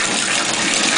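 Water gushes loud and close from an upstairs kitchen sprayer faucet with its aerator removed and air still in the lines, as one dense, continuous rushing spray.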